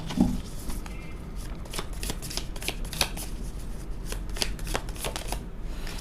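Tarot cards are shuffled and drawn close up, giving a run of quick, crisp riffling and flicking snaps in an uneven rhythm with no talk over them.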